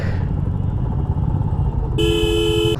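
A convoy of thirty-one motorcycles heads out of Krishnanagar on a road trip toward Darjeeling, engines rumbling steadily up close until a loud horn blares in the final second.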